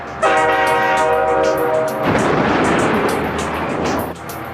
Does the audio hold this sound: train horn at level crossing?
yes